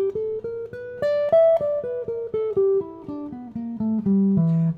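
Guitar playing an E blues scale as single picked notes in an even stepwise run, clear and close, with no talking.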